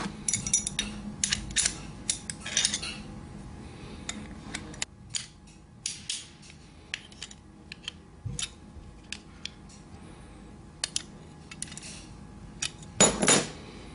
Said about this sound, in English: Then pull the clip up with the pliers.